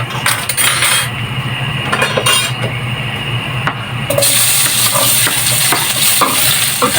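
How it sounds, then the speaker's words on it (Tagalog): Garlic and onion sautéing in oil left over from frying tofu, a loud steady sizzle with scraping stir strokes and a sharper burst partway through as ingredients go in; no talking. "Magigisa na ako ng doon sa pinagprituhan ko ng tofu"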